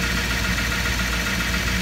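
A 2009 Duramax 6.6L LMM diesel V8 engine with 135,000 miles idles steadily nearby, a constant low rumble with an even mechanical clatter and no talking.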